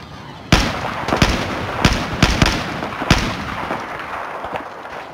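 Battlefield 4 weapon rounds fire downrange as a series of loud, sharp blasts, an irregular run of about eight shots with echoing rumble between them.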